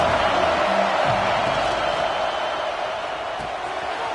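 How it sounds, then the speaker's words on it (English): Stadium crowd noise in a college football video game, Georgia against Penn State: a continuous, dense roar of a large crowd, loud and even throughout with no clear peaks. "This crowd trying to make life miserable for this offense."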